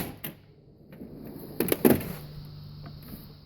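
A drawer slides open on a Cornwell toolbox made for pliers, giving a short metallic rattle and clunk at close range. The opening runs about one second, and a low hum continues through the rest of the clip.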